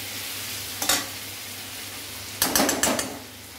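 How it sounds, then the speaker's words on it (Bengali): Chilli powder and ground cumin being sautéed in a pan for chilli paneer: two short bursts of sizzling and spoon scraping, one brief and a longer one later, with quiet background hum between. "এটা ভালো করে এবার কষতে হবে।"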